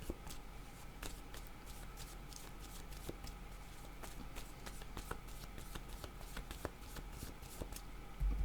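A deck of tarot-style cards shuffled by hand, with crisp repeated riffles and flicks at an irregular rhythm, close and fairly quiet over a low background hum.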